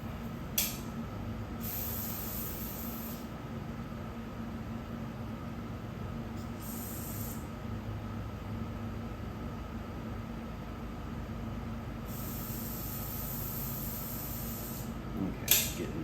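A pressure spray rinses gunk out of a machine being cleaned for resale, giving a steady hiss that runs the whole time with several brighter, sharper bursts layered on top.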